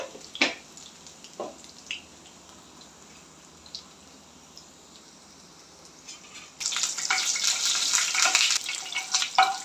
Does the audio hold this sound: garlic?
yes